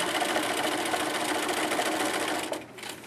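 A sewing machine stitches fabric pieces for a ski hat, fed one after another, with a steady, close, continuous whirring run that stops abruptly near the end.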